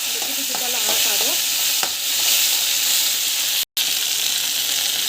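Food sautéing and being stirred in a pan, a steady close sizzle with brief scraping strokes of the spoon early on.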